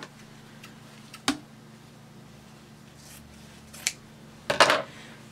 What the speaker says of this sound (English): I'm going to go ahead and cut this piece off